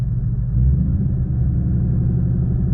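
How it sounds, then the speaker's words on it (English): A car engine held at a raised idle near 1500 RPM, giving a loud, steady, low rumble with a slight swell early on and no talking. "rev up to 1500 RPMs and let it for 10 to 15 seconds"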